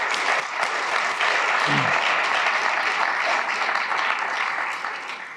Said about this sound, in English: Please, let's give a round of applause for our international partners.